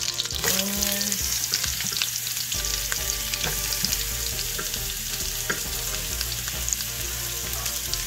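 Onions frying in a pan, a dense continuous sizzle with crackling pops and a low steady hum underneath, close and fairly loud throughout, no speech.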